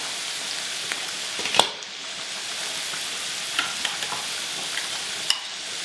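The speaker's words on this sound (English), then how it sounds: "the peppers and the meat are sauteing nicely and cooked" Peppers and meat sauté in a pan for spaghetti meat sauce, a steady close sizzle with a few sharp clinks and spatula scrapes, no talking.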